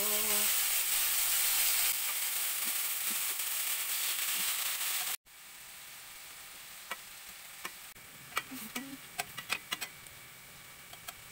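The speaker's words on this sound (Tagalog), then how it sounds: "Ilalagay natin itong chicken isa-isa para ma-prito na muna." Chicken pieces frying in a pan, a steady hiss and sizzle for about five seconds, then quieter crackling with scattered sharp pops and ticks as more pieces go in.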